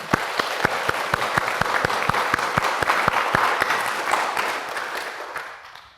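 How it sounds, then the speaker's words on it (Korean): A congregation at a Buddhist dharma talk claps together in a loud, rhythmic burst of applause with sharp individual claps standing out, gradually fading away near the end. "박수 한번 치고"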